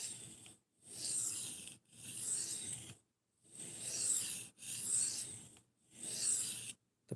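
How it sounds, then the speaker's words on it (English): Knife blade strokes on a sharpening stone while a Spyderco PM2 is sharpened, five long, even rasping passes with short pauses between, close and steady, no talking. "I am sharpening a"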